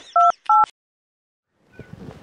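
A telephone being dialed: two crisp keypad tones in quick succession, clear and close, followed by a short stretch of silence and then faint, muffled background noise.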